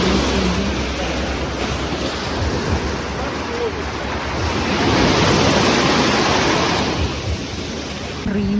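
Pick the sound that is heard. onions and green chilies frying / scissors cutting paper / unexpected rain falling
unexpected rain falling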